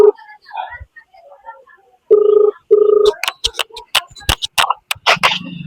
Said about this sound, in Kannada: ಶ್ರೀಹರಿಗ ಫೋನ್ ಹಚ್ಚುಂ ಬರ್ರಿ ಗೈಸ್.